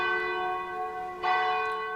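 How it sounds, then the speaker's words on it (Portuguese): A bell in the tower of São Paulo's São Geraldo church rings with a sustained metallic tone, and a fresh strike swells the sound partway through. "o badalo do sino anunciou a chegada de Dom Pedro I à cidade."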